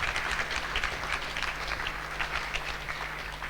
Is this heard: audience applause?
yes